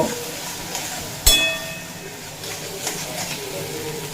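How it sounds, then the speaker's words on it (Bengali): Spice paste sautéing in a pan with a little added water, a steady sizzle with a sharp metallic clank from the spoon and intermittent stirring scrapes. "একটুখানি জল দিয়ে খুব ভালোভাবে কষিয়ে নেব"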